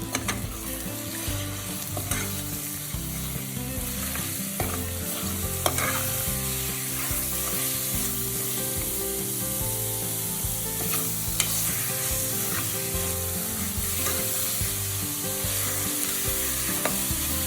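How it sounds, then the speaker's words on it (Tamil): Minced mutton keema sautéing in a pan for a gravy, a steady close sizzle and fry with continuous stirring and scraping throughout, no voices. "கொத்துக்கறி அந்த மட்டன் வாசம் போகிற வரைக்கும் நல்லா வதக்கிக்கணும்."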